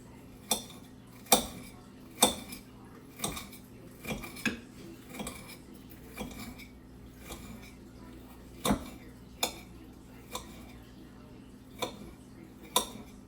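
A knife chops a pepper directly on a plate, producing sharp, irregular clinks and taps spaced a second or so apart, fairly quiet and close over a faint background hum.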